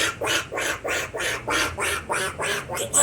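A man imitates a duck by voice, quacking about nine times in a quick, steady rhythm, loud and close.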